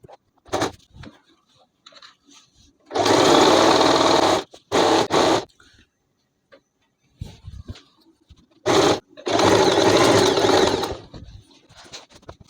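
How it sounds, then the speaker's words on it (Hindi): A sewing machine stitches the crotch seam of a palazzo made from a petticoat, running in two long bursts with several short stitch runs and quiet handling sounds in the pauses between. "अब हम इसको स्टिच कर लेते हैं।"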